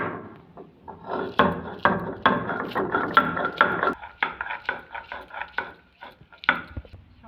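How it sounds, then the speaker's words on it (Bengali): Ground leaf paste and two green chillies worked together by hand, a steady run of close scraping and knocking strokes with short pauses between them. "আমি পাতা বাটাটা দেবো, আর এগুলো একসঙ্গে বেটে নেবো।"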